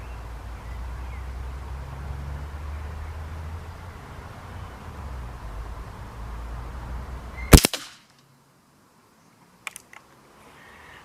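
One sharp, loud air rifle shot from a BSA Ultra or Kral Puncher NP02 cracks out after a low steady hum, followed by near silence and a couple of faint clicks.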